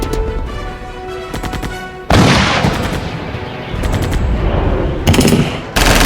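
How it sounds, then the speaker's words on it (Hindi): Loud, close bursts of automatic gunfire, many rounds in rapid strings broken by short pauses, ring across hilly terrain near the Line of Actual Control between India and China at night, with no voices present. "वास्तविक नियंत्रण रेखा के आसपास का पहाड़ी इलाका गोलियों की आवाज से थर्रा उठा।"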